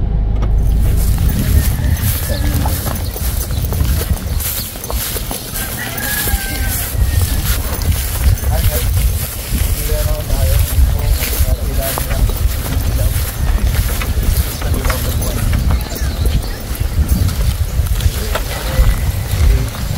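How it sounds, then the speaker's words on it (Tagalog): Bangka, a small outrigger boat, travelling on water with a continuous rumbling engine and wind buffeting throughout, loud and close, with people talking over the noise. "Ito po yung ating bangka."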